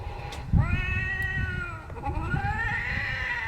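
A motion-activated cat decoration for a fall display lets out two drawn-out electronic meows, the first loud and rising, the second slightly softer, close by with household noise underneath.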